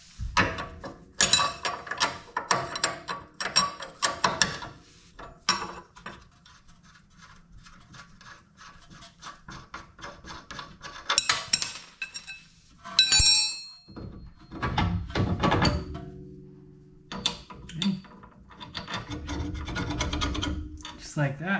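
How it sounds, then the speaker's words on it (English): Bolts and nuts come off a Tesla Model Y strut where it meets the lower control arm, with bursts of rapid ratcheting, metallic clinks and rubbing handling noises, close and uneven, with no talk. "Now you can take the bolts, 21 bolts and nuts off of the strut where it meets the lower control arm."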